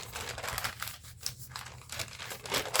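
Paper bag being folded and creased into a folio, giving close, soft crinkling and rustling paper sounds that come and go in short bursts at low volume.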